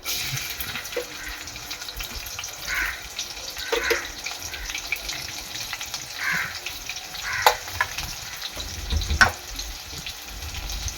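Whole garam masala, cumin and onion frying in a pressure cooker for masale bhat, a steady close sizzle with occasional stirring scrapes and a few sharp clinks, no voices.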